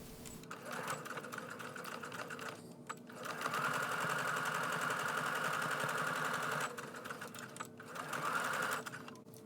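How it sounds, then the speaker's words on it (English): A sewing machine runs in two long bursts of straight stitching along a bucket hat brim, a steady close mechanical whir with brief pauses between runs. "I'm going to place my right sides together and straight stitch on each end"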